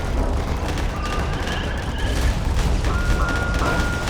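Titan cannons fire in the space combat game Starsector, with heavy booming blasts and rolling bursts over a dense, continuous roar of battle noise.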